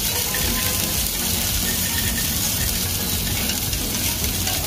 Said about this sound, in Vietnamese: Sau đó mình cho cà chua vào mình xào.